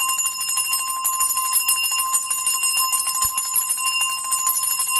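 A small bell rings over an Ekeko figure in a blessing, a bright, continuous shaking jingle that stays steady and loud throughout with no talk.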